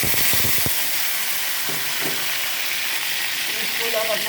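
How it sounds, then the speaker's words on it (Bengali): Potatoes fry in hot oil for an ilish pulao, giving a steady, close sizzling hiss throughout, with a few soft knocks and thumps early on. "আলুটা ভেজে নিলাম"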